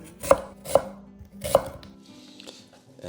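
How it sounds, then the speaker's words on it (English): A knife slices a home-grown Cabernet onion into half moons on a board, with three crisp, evenly spaced cuts up close and quieter handling noise afterward; no one speaks. "And I like to slice the onion into half moons."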